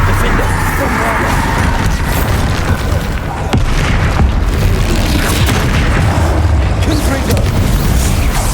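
Bombarda explosion spell detonating during a troll fight in Hogwarts Legacy, a heavy boom amid sustained loud combat rumble, crashes and pops, with voices mixed into the din.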